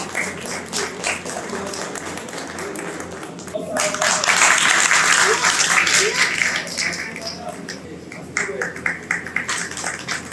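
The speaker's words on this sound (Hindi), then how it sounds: "छोटे छोटे बच्चों की बहुत ही अच्छे होते हैं, उनके लिए जोरदार तालियां हो जाए।" Audience clapping at an evening devotional music program, sharp scattered claps rising into a fuller, louder burst of applause for young children, then trailing into sparser claps, with someone speaking over parts of it.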